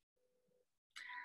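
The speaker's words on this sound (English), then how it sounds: "That's my cat, sorry." A pet cat gives a soft, drawn-out meow, then after a short pause a sharper, louder meow close to the microphone. No one speaks.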